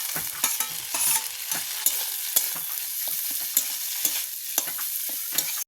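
Prawn filling with ginger and garlic paste sizzles in a hot pan while a spatula stirs and scrapes it, steady frying hiss punctuated by regular clinking strokes against the metal, close and without talk.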